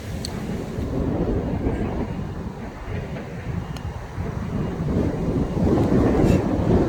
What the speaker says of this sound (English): Just can't get over the strength of the wind.